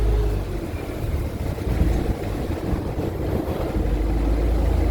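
A boat cruising on a river in Thailand, with a steady low engine rumble and rushing wind buffeting the microphone throughout, loud and continuous with no speech.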